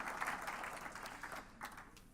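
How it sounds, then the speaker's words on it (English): Faint, scattered applause from guests at a charity gala dinner, brief rounds of clapping that fade out quickly in a large room. "Give yourself a round of applause."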